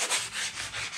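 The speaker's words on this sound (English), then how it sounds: "I use 120 grit sandpaper, and it doesn't take a lot of sanding" Wood is sanded by hand with 120-grit sandpaper, giving a steady, close-up scratchy rubbing in quick back-and-forth strokes, with no voices.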